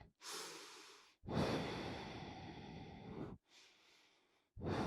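Deep breaths during yoga practice: a few long, audible inhales and exhales, close and unhurried, separated by short silent pauses.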